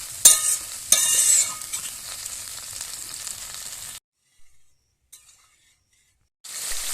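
Boiled loitta fish is stirred into fried spice paste in a pan, with close scraping and sizzling for about four seconds, then near silence with faint touches, and the sizzle returns at the end.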